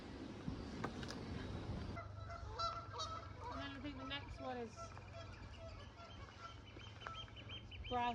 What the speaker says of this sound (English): I'm sure you can hear the geese there.